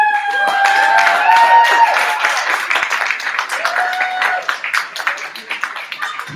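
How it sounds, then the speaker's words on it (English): Audience applause at a poetry slam in Berkeley, a dense crowd of clapping that starts loud and full, then thins into scattered individual claps toward the end, with some cheering voices mixed in. "Keep that round of applause going for summertime."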